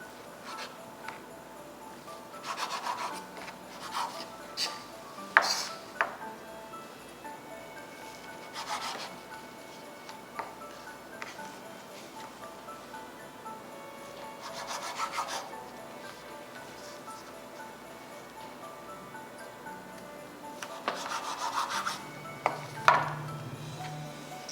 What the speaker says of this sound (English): Let's cut fish cakes into bite-sized pieces.